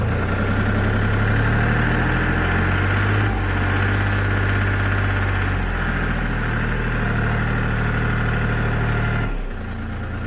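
An Apollo Tractor 254 compact tractor engine runs steadily while driving, a constant low chugging drone close by that drops off briefly near the end.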